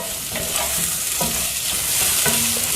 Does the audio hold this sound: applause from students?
no